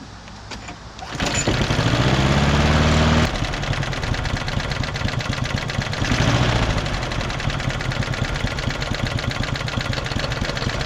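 A push mower engine fitted with a weed eater carburetor sputters, catches, then settles into a low, steady idle with a rapid even chugging rhythm, close and loud, heard alone.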